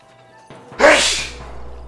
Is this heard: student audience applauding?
no